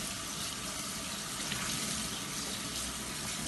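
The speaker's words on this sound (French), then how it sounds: "Je vais prendre 2 torchons que je vais mouiller cette fois-ci avec de l'eau chaude" Hot water runs steadily from a tap to soak two tea towels while bread is being made the old-fashioned way, a continuous close hiss and splash with no talking.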